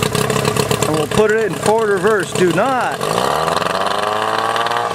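A boat outboard motor on a river cranks and catches, then settles into a steady idle hum, with someone talking over it throughout.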